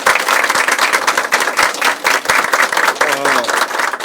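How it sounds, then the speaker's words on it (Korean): A crowd at a Korean political party leadership campaign event claps loudly and continuously, dense applause close up with a few faint voices mixed in. "박수 한번 쳐주십시오"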